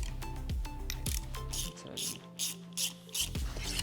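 A ratchet fitted with a 17mm socket is worked while a steering damper is installed on a RoadRunner RS5, producing close, crisp clicking bursts in uneven strokes with short pauses between them.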